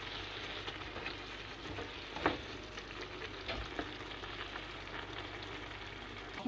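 Food stirred in a frying pan during a village family breakfast, with a soft, continuous sizzle and occasional scraping strokes, faint and steady throughout with no talk.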